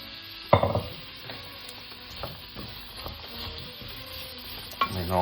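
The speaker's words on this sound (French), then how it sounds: "On verse un filet d'huile d'olive dans un wok. On attend qu'elle chauffe. Et on y verse la mirepoix." Mirepoix drops into hot olive oil in a wok with a sharp burst of sizzling, then frying crackles steadily with a few stirring knocks and a second loud stir near the end; no one speaks.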